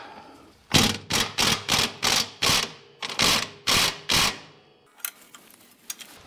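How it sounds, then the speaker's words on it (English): Eight hard, even metallic bursts ring out in quick succession while a bolt is forced out of a 1971 Cadillac Coupe DeVille shock mount, followed by a few lighter clinks near the end. "Had to tap it out of there with a lot of force."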